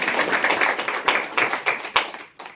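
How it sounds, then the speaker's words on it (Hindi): An audience claps at a Brahma Kumaris Women's Day programme, giving a brisk round of applause with a few sharp louder claps before it quickly fades out. "जोरदार तालियां बजा दीजिए"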